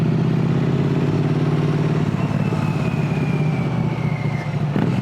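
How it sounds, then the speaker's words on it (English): A motorcycle ridden along the road, its engine a steady mid-pitched drone with rumbling low tones throughout, fairly close and continuous with no voices. "So I can still hear the beautiful sound of the bike and anything around me"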